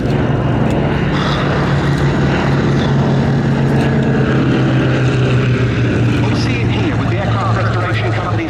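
Lockheed 12A twin propeller aircraft leading an airshow formation at its first public display since restoration, a steady loud droning engine hum sustained throughout with a strong low tone.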